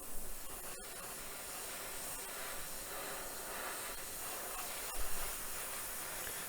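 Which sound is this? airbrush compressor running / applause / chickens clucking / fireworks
airbrush compressor running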